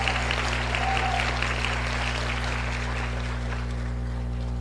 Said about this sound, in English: So a round of applause to all of our sponsors